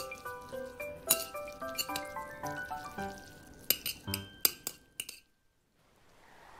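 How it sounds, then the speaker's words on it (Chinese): Soaked glass noodles stirred into sauce on a plate with utensils, a run of quick, rhythmic clinks and wet clatters that stop abruptly, close and fairly quiet. "平铺在调好酱汁的盘中，搅拌搅拌，尽量让每一根粉丝都吸收到酱汁的精华"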